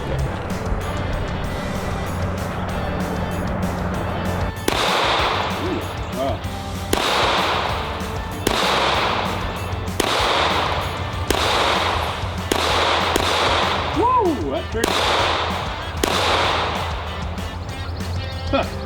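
Shots from a Tisas USA double-stack pistol ring out one at a time at a steady pace, about eight sharp loud cracks outdoors with a constant background hum between them and some talk.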